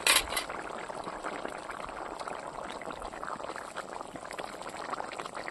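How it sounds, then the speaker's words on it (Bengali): A gourd and dried fish curry broth boils steadily in a pot, a continuous bubbling simmer heard close and fairly quiet, with a brief clink at the start. "বন্ধুরা ঝোলটা ফুটে গেছে।"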